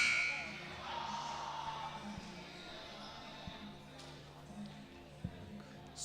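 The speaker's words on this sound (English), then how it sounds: "There goes your buzzer." A buzzer sounds at the end of a set in a high school volleyball match between Broken Arrow and Norman North, cutting through gym crowd murmur and squeaks, followed by a few sharp thuds and pings.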